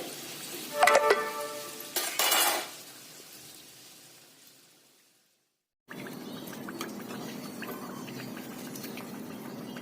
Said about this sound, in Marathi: मध्यम गॅसवरती दोन्ही बाजू छान तळून घ्यायचे